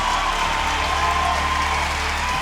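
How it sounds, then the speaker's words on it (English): Crowd at an arena event erupts in a dense, steady roar of cheering and applause that holds loud and unbroken throughout. "And the crowd here at the Baller Up Arena has erupted"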